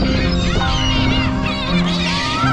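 Gulls crying at the Soraepogu seaside fish market, a dense crowd of overlapping high calls against a steady market hum with a faint murmur of voices.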